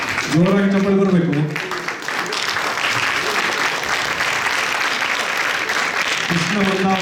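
Loud, sustained audience applause at a welcome function, a thick wash of clapping that carries on throughout, with a voice speaking over it at the start and again near the end.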